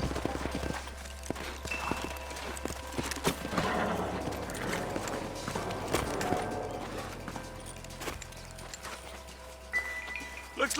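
Horses' hooves clip-clop in the game Red Dead Redemption, a steady run of dull thuds under a low drone and a busy bed of game noise, with a whinny-like sound also possible.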